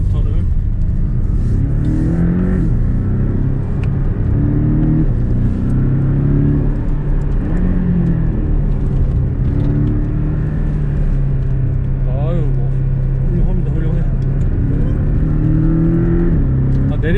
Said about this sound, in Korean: 지금은 엔진 브레이크로 내리막을 가고 있고요